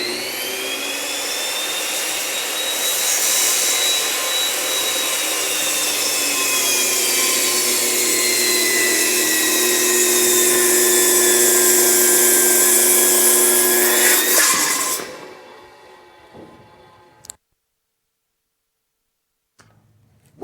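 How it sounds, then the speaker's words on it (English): Large timber-framing power saw cuts through a timber beam in a single pass, a loud, steady high-pitched whine with a falling tone lasting about fifteen seconds, then stopping abruptly and spinning down into near silence. "because of the depth of this saw, he can make that that cut in one pass."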